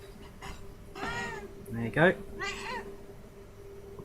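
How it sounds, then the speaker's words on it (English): A house cat meows several times, up close, in short rising cries. A person speaks briefly between them in a quiet room. "If you hear any background noise, apologies, that's just the cat being the cat."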